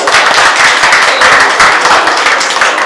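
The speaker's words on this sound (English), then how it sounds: "Let's give her a round of applause" Steady applause from a crowd at a Lunar New Year event at Cleveland's Asia Plaza fills the room, a dense burst of many hands clapping at once throughout.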